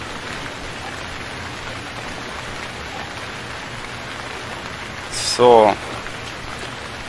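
Steady rain falls in the survival game Stranded Deep, a continuous even hiss throughout, with a short spoken word from a man near the end.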